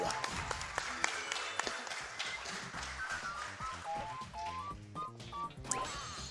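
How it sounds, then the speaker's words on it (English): A few sharp hand claps from one person ring out over Super Mario Galaxy game music and chiming sound effects, irregular and close, mixed with other tapping hits. "I'm going to clap for that one."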